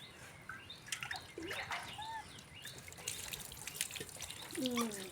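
Water is poured over a dog during a bath, splashing and trickling in uneven bursts, with birds chirping in the background and soft voices nearby.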